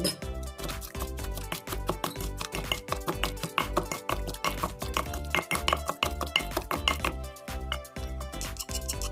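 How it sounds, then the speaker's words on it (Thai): Rhythmic, heavy thuds of a pestle pounding chili paste and chicken in a mortar, steady and close, repeating throughout with slight clacks. "เราก็จะเอาไก่ลงไปตำด้วยเลย"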